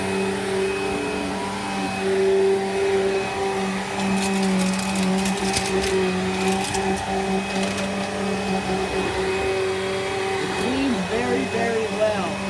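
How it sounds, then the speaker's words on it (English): A Bissell Rewind SmartClean upright vacuum cleaner runs with a steady, loud motor hum and whine throughout, with slight rattles from the brush on the floor. "It's actually a really cool vacuum."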